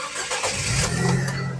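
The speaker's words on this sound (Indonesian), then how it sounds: "Oke, sekarang kita coba start mobil ya." A 2011 Nissan Grand Livina 1.5 XV automatic starts up close by, a short cranking whir catching into a steady mid-pitched idle.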